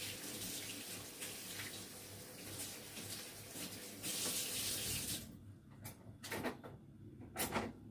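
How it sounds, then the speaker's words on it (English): A kitchen tap runs steadily while hands are washed, water splashing continuously for about five seconds, then the flow stops and a few faint clunks and drips follow. "Just need to wash my hands."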